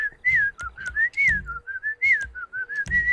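Someone whistles a short, wavering tune up close, in clear, bright phrases broken by brief pauses and small breaths, with no other sounds around it.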